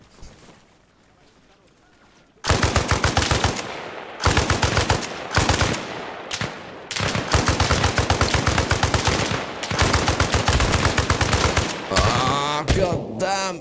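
Automatic gunfire in the military shooter Arma Reforger, long loud rapid-fire bursts separated by brief pauses after a quiet opening, with a short scattered volley at the end.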